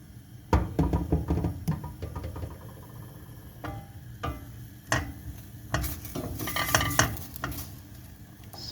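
Chopped onions sizzle in a pot for a pea rice pilaf, a soft steady frying hiss broken by scattered clinks and knocks of a spoon stirring against the pot, fairly quiet and close.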